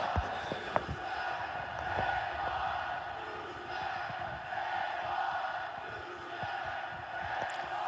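A Monday Night Raw wrestling crowd chants at Jinder Mahal over a loud TV, a steady roar of massed voices running throughout, with a few sharp thuds near the start.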